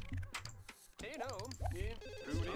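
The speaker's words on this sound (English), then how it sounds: "answer the phone" A telephone rings in The Sims 1, a faint, warbling ring repeating under a voice that talks over it throughout.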